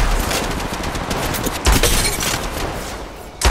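Sustained automatic gunfire in Apex Legends Mobile, a dense rattling fusillade that carries through the whole stretch, with a heavier burst near the middle and another at the end.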